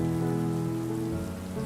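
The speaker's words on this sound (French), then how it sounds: "Et pendant que la pluie continue de tomber, régulière et apaisante" Steady, soothing rain falls without pause in a dense, even hiss. It sounds close and fairly loud, with no voices.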